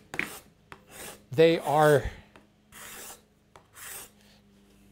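A hand scraper drawn across a wood surface, its edge just starting to turn and leaving more dust than shavings, gives several separate dry rasping strokes. A short spoken phrase falls between them.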